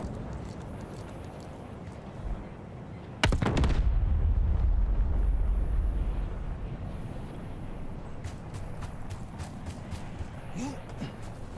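Gunfire in a video game comes as one loud, sharp blast followed by a booming rumble that fades over a few seconds, set against steady background noise.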